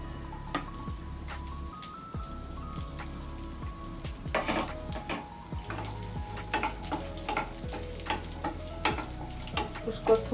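Cashews and raisins fry in hot ghee, giving a low, steady sizzle with frequent crisp crackles and spoon clinks against the pan, quiet and close throughout.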